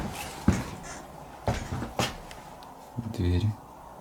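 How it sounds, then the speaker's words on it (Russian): Apartment doors swing partly open with a few sharp knocks and bumps, then a short creaking rattle near the end, heard close in a quiet indoor room. "Двери приоткрылись."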